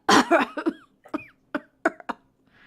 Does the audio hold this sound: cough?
yes